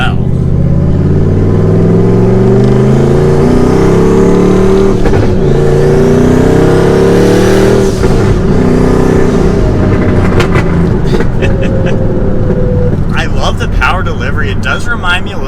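A turbocharged manual Ford Mustang GT with a single turbo accelerates hard, its loud engine droning and climbing steadily close by while someone talks over it.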